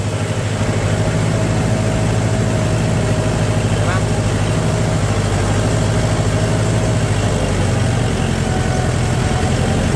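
Kubota L5228 tractor engine working a rotary tiller in first gear at about 1600–1700 rpm, a loud, close, steady diesel drone that runs unbroken from start to finish.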